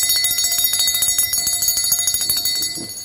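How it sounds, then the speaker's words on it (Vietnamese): A hand-cast bell of natural brass rings repeatedly in quick, even strikes, bright and sustained with shimmering overtones, loud and close with no voices. "một con chuông đồng rất là hay luôn các bác nhá"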